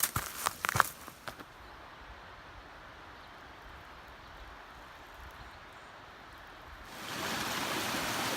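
Steady broadband rush of a stream at a hiking trail crossing in Prentice Cooper State Forest, continuous and moderately close, with a few brief knocks or footsteps at the start and the flow swelling louder near the end.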